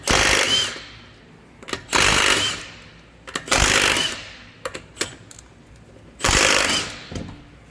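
A Milwaukee M18 Fuel 1/2-inch mid-torque impact wrench takes the 22 mm wheel nuts off a Honda Passport, firing in loud bursts of rapid hammering, each about a second long, separated by short clicks and pauses.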